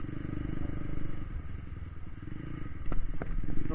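Motorcycle engines, including a Splendor and an RTR bike, rumble steadily at close range with some clattering, rising slightly near the end.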